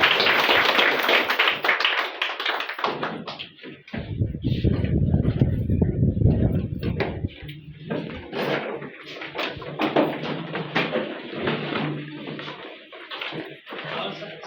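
An audience gives loud, dense welcoming applause for a guest speaker at a stage event. The clapping runs continuously through the whole clip, close and steady.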